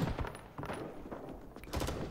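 Automatic M60 machine gun fire in the Vietnam War shooter Rising Storm 2, on the Cu Chi map, heard as dense overlapping gunfire bursts at mid distance, with the loudest volleys near the start and end.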